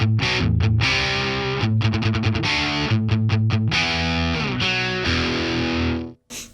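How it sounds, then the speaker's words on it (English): Electric guitar played through the Boss Katana's Core Metal amp model, heavily distorted and loud, with rhythmic palm-muted chugs and sustained chords ringing to a final cutoff. "There's Core Metal, which is another original Boss amplifier."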